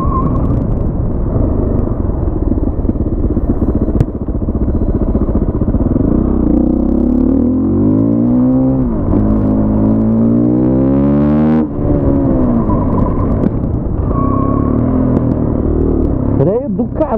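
A Husqvarna WR510 dirt bike engine revs hard up through its gears on a road ride, rising and falling sweeps of loud buzzing exhaust close to the rider, with wind rumble and a person talking over it.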